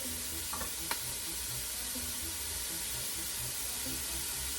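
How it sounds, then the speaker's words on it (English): Chopped garlic sizzles in a pot as the base for cabbage soup, where sausage was already cooking, making a steady, moderately quiet frying hiss with a brief clink of stirring near the start. "to that I'm going to add, just a little chopped up garlic"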